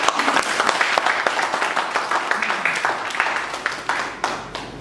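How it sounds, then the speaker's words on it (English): Audience applause for a speaker at a Toastmasters club meeting, a modest room of people clapping with distinct individual hand claps audible, thinning out in the last second. "A big round of applause for Shuruk."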